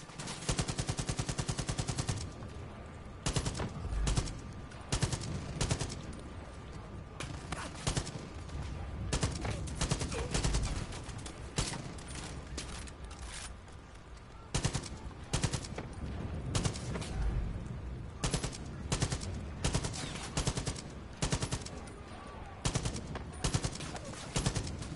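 Gunfire in the video game Far Cry 5 rattles in repeated bursts, with sharp single shots and rapid automatic volleys coming in irregular clusters over steady background game ambience.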